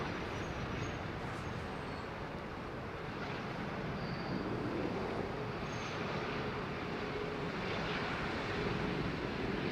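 Airbus A380 landing on runway 27R at London Heathrow, a steady broad roar of engines and airflow that holds at a constant level throughout, with no speech.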